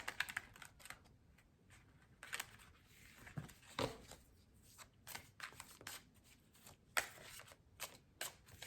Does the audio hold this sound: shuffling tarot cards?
yes